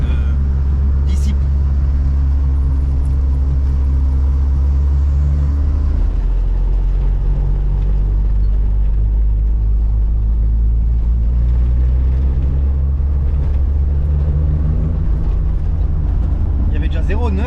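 A tuned Volkswagen G60 supercharged engine idles loudly while warming up, a deep steady rumble that shifts in pitch midway as the revs settle, close and continuous throughout.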